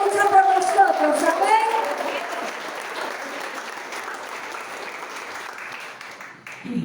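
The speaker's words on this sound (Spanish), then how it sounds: "No sé si le puedes dar un aplauso a Dios." A church congregation applauds during a missionary service. Clapping swells with voices over it at first, then settles into a softer, sustained patter that fades toward the end.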